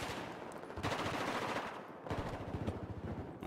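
Rapid automatic gunfire fills a competitive shooter match, a dense, continuous rattle of shots in close bursts, loud and sustained throughout.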